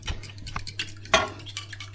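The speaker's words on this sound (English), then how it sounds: "Give a really good whisk." A whisk beats quickly against a bowl, close and busy, with rapid metallic clinks and scrapes in uneven bursts and one brighter ringing knock partway through, over a low steady hum.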